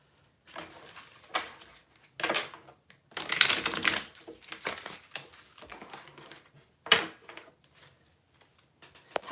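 Items rustle and clatter in irregular bursts as they are shuffled by hand, a handful of short crinkly, crunching scrapes with quiet gaps between them and no voices.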